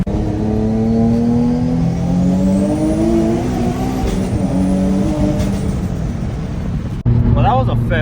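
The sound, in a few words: BMW M340i accelerating in third gear, possible exhaust leak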